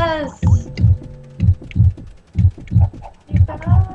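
A heavy double-thump heartbeat sound effect pulses steadily in a video game, loud low beats repeating about every second, with scattered voices and faint game sounds between the beats.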